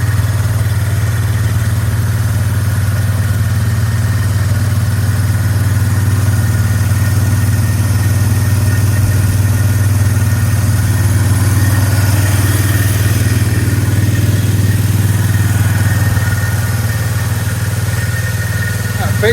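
Steady low idle of a Polaris 325 Trail Boss ATV engine warming up, close and constant throughout, with someone talking over it.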